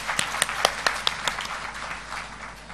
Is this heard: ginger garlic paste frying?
no